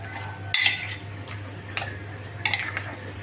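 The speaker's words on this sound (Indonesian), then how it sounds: "Terus diaduk atau sambil dihaluskan seperti ini sampai dengan coklatnya tercampur dengan rata." A spoon stirs and mashes a chocolate mixture in a bowl, with a few distinct clinks and scrapes spaced out over a low steady hum.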